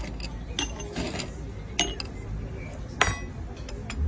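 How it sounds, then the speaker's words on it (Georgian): Ice cubes drop into drinking glasses for a chilled linden infusion, giving a few sharp, bright clinks spaced out over low background noise. "ყინულებს ჩავდებთ"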